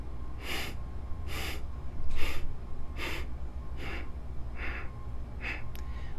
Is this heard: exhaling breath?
yes